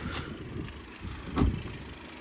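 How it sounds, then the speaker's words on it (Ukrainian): A 2016 Skoda Octavia 2.0 TDI diesel engine idles steadily nearby, a low even rumble with a slight knock and no voices. "двигун працює рівненько"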